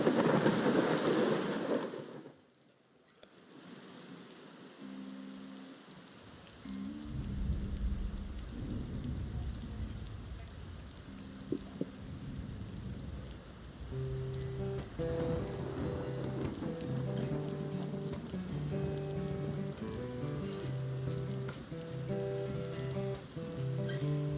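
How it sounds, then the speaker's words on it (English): Steady rain patters on a surface, with a deep rumble of thunder rolling in at the start before dropping away, then continuous rainfall carries on under a soft violin melody. "Looking inside my window, I see the rain is falling."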